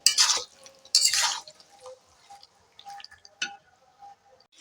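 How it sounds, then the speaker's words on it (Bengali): Chicken meat is stirred in a pan over medium heat, with a couple of bursts of scraping and sizzling followed by faint clicks and small wet sounds, and no talking. "একটু মাঝারি আঁচেই মাংসটাকে আমি এইভাবে নাড়তে থাকবো"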